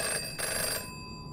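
A large in-game telephone rings in Five Nights at Chuck E. Cheese's: Rebooted, a steady electronic bell tone that sounds close and loud for about a second, then cuts off into quiet room tone.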